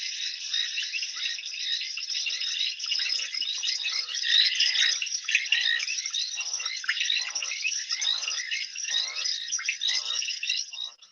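Dense, steady chorus of crickets on a night-time African wildlife webcam at Tembe Elephant Park, trilling continuously in fast pulsing rhythm, with a slower repeated croaking rattle pulsing underneath throughout.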